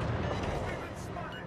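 Naval guns boom in a dense, continuous roar of battle during a World of Warships Legends naval engagement, heavy low rumble sustained throughout with no pause.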